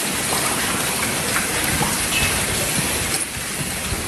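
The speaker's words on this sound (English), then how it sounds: "Hail smashed through pool screens in Claremont, Florida." Hail pounds down during a severe storm in Clermont, Florida, smashing through pool screens with a dense, continuous roar of impacts that stays loud throughout and drowns out any other sound.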